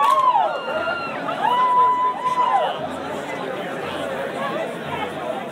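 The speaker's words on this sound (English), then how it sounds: "Peaceful counter protest, but quite a large group of people in the last" A large peaceful counter-protest crowd near the Boston State House creates continuous chatter and murmuring, with a few voices standing out at first before the babble settles into a steady, moderately loud hum.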